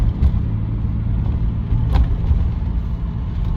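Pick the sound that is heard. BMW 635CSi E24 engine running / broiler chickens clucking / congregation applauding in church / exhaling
BMW 635CSi E24 engine running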